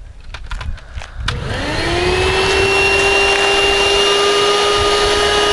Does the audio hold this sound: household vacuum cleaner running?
yes